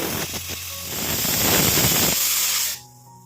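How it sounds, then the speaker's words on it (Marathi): A pressure cooker holding a mung bean soup vents steam in a loud, close, continuous hiss that swells and then cuts off abruptly, leaving a low hum. "कुकरच्या तीन शिट्ट्या होऊन प्रेशर रिलीज झालेलं आहे"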